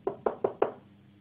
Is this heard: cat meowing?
no